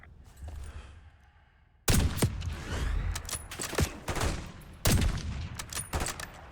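Gunfire in the video game Call of Duty Black Ops 6 starts after a quiet opening, with loud rapid bursts of automatic fire and sharp single shots crackling through the rest of the clip.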